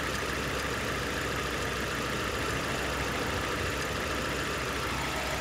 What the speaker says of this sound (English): So there you go, it's misfiring once again.